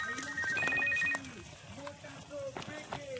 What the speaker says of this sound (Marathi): आता कोणचा फोन आला?